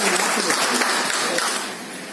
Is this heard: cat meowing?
no